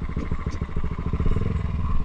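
A motorcycle engine runs steadily at close range with a rapid, even pulsing throb and slight mechanical clatter, loud and alone without voices.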